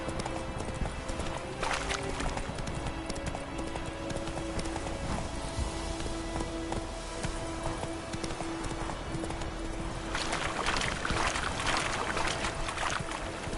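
In The Witcher 3: Wild Hunt, horse hooves clip-clop in a steady rhythm over game ambience and a faint tonal drone, growing busier and louder toward the end.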